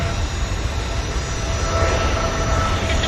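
A jet airliner arriving from Montreal at Vancouver airport, a steady broad engine roar with a faint whine, fairly loud and unbroken, with no talk.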